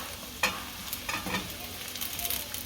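Carrot, cabbage and capsicum stir-fried in a pan for veg hakka noodles, a steady close sizzle broken by a few scraping stirs of the spatula, with no talking.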